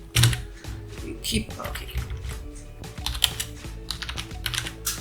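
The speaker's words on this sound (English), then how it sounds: "So you can paste the script here. Let's type" Rapid, uneven clicking of a computer keyboard as a script is typed, close and fairly clear, with a short spoken word at the start.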